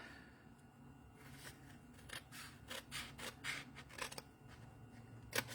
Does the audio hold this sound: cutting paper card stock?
yes